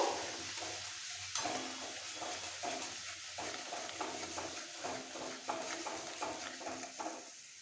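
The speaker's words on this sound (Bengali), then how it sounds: "এক চামচ কালো সর্ষে বাটা একটু কষিয়ে নেব" Black mustard paste sautéing in a hot pan with a soft sizzle, while a spoon stirs it in repeated scraping strokes.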